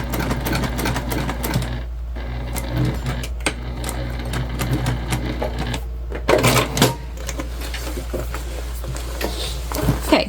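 Sewing machine top stitching a clutch bag, running in steady bursts of rapid stitching with brief pauses, close and fairly loud over a constant low hum.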